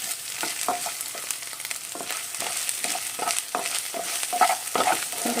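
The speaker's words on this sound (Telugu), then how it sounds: "అల్లం వెల్లుల్లిపాయ పేస్ట్ అయితే తీసుకుంటున్నాను. ఒక స్పూను, చిన్న స్పూన్ తోటి ఇది కూడా మంచిగా ఫ్రై చేసుకోవాలి." Ginger garlic paste sizzles steadily in a pan for an Andhra-style sorrel leaves prawn curry, with a constant close frying hiss and soft intermittent stirring clinks.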